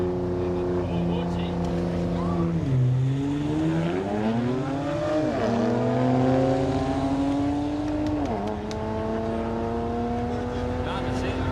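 Four-cylinder drag cars at a no-prep street drag day scream down the strip, their engines rising and shifting through gears in long, loud, overlapping wails, with heavy crowd and commentary chatter underneath.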